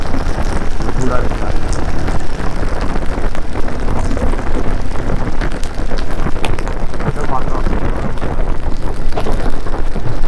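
Heavy rain falls hard during a motorcycle trip in the mountains near Rohtang Pass, a loud, unbroken roar of drops that fills the whole stretch, with a hint of wind.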